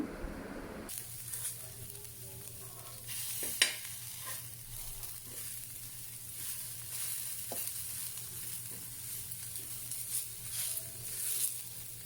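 Dosa batter roasting on a hot pan, a steady soft sizzle and hiss running throughout with a few light scraping touches, close and moderately quiet, no talk.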